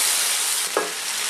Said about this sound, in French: Le moment est venu de rajouter les champignons noirs. On va les faire revenir un peu vite fait.